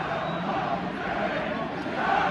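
Football crowd at Molineux stadium during a Wolves vs West Ham Premier League match, a dense, loud, sustained roar of chanting voices filling the stadium without a break.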